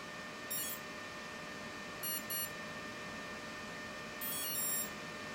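A brushless ESC, just switched on with a receiver connected, gives three short groups of high electronic beeps, faint and spaced over a few seconds against a quiet steady background hum.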